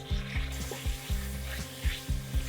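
Chopped tomatoes go into shallots and curry leaves frying in a pan, with a steady close sizzle and a few soft rhythmic scrapes and knocks of a spatula.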